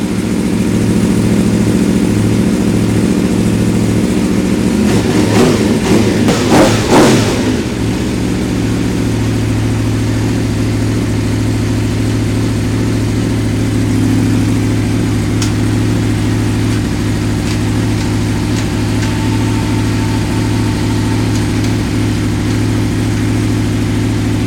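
An Aprilia RSV4 motorcycle engine fires up with a short burst of cranking and revving, then settles into a steady, close idle hum that runs on alone.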